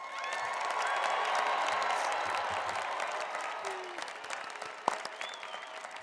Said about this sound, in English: please join me in giving all of our newest Sun Devil graduates another well-deserved round of applause